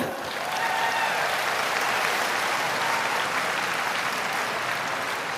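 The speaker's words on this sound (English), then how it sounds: "Give yourselves a round of applause." Large outdoor symphony concert crowd in Melbourne applauding, a broad continuous roar of clapping at steady high level throughout, with no pauses.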